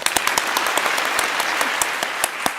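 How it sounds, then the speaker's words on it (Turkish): Studio audience on a television competition show giving loud, sustained applause, with distinct claps standing out from the steady roar. "Bir de kocaman alkış verelim size."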